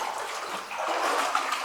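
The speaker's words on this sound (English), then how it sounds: "You can hear water actually hitting the bottom in this one" Water falls down a large mine shaft and splashes at the bottom, a continuous hollow rushing and pattering heard at some distance within the underground space, steady over a short stretch.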